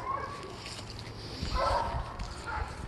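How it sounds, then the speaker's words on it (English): A dog whimpers and gives a few muffled yelps out on a rural property, heard at a distance over a low outdoor rumble, swelling briefly midway. "That dog didn't sound so good."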